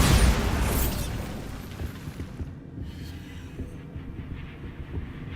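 Bombarda, an explosive spell cast in the Hogwarts Legacy video game, bursts loud and broad at the very start, then rumbles away into a low, churning tail and scattered debris crackle.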